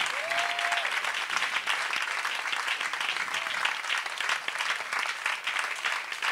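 A church congregation applauds to acclaim the Lord, a steady, dense wash of clapping from many hands that holds at an even loudness throughout, with a brief high tone near the start.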